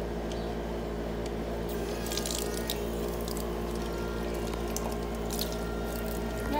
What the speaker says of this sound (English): Okay, Ryder, I'm gonna turn the water on.